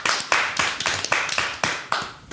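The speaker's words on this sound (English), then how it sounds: "So I'm going to clap it up for him." A single pair of hands claps about nine times in a steady rhythm, sharp close slaps with short decays, heard alone in a podcast studio.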